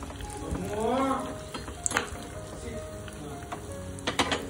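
A sambar tempering of curry leaves, cumin and Kashmiri chili powder hits hot oil, giving a soft, brief sizzle with a few stirring clinks and taps nearby.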